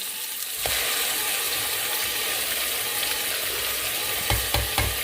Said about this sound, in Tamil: இப்போ வதங்கிட்டது அரைச்சி வச்ச வெங்காயமே இப்போ இதில் சேர்த்துடலாம்.